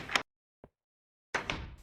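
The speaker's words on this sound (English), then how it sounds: "Such a different door sound." Wooden door opening in Minecraft Infdev, a short clunky creak-thud, followed by a faint click and then a second, longer wooden door sound, set against silence.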